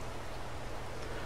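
Steady rain falls in the Farming Simulator 22 game, a dense, even hiss that fills the whole short stretch without pauses or talk.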